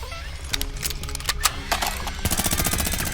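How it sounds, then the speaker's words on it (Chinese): In a Chinese tomb-raiding audiobook drama, a gunfire sound effect rattles out in rapid, staccato bursts, building into a dense, rhythmic machine-gun-like stream toward the end. "胖子，把56的子弹给我，我掩护你，快下来"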